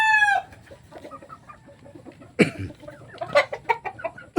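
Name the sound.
chickens and roosters in a small backyard chicken coop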